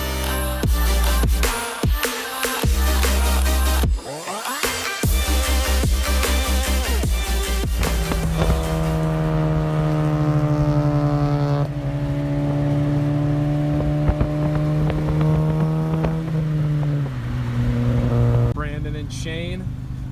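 Loud, modified Honda cars rev and accelerate hard at a Honda meet, with rising engine tones, gear changes and sharp bursts, heard up close across a long pass.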